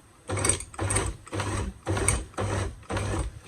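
An electric grinder mincing beef, pulsed on and off six times in a steady rhythm, each whirring burst about a third of a second long with short gaps between, loud and close.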